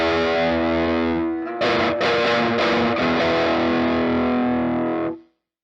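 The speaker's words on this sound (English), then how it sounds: "we're going to go into this riff here, which is a really dissonant chord" A heavily distorted electric guitar plays a dissonant chord riff from a song: a sustained chord rings, then a run of loud, chopped rhythmic chord hits continues to an abrupt stop.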